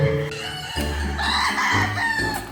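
Chickens cluck and a rooster crows nearby, loud and busy, filling the short stretch with overlapping farmyard calls.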